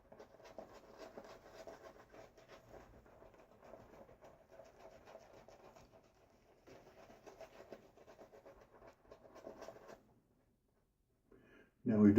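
Shaving brush scrubbing lather on a face, a steady soft bristly rubbing that pauses briefly and resumes, fairly close and quiet, before a louder sound at the end.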